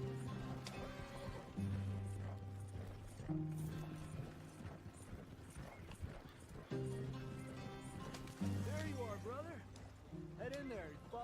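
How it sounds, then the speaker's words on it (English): In the video game Red Dead Redemption 2, horses pulling a wagon clip-clop along in a steady rhythm with creaking wagon mechanics. Game music tones and a voice sound over the hoofbeats. "And the horses seem to be going quicker now."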